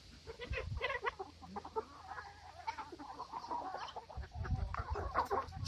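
A small backyard flock of chickens clucks and chatters close by, a busy overlapping run of soft clucks and squawks over quiet outdoor background.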